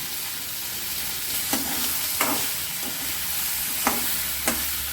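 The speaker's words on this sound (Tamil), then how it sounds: "நல்லா வதங்கட்டும் தக்காளி கத்திரிக்காயெலாம் நல்லா கொஞ்சம் வெந்து நல்லா வதங்கி வரட்டும்" Tomato and brinjal for a spicy chutney are sautéed in a pan, with a constant sizzle broken by four or five sharp spoon scrapes against the metal, close up and with no talking.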